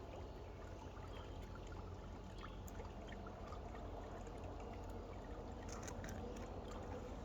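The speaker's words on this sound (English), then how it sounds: "we're just going to fill it up with water." Steady, faint rush of water running and trickling as a pool vacuum hose is filled, continuous throughout with a few small splashy clicks and no talking.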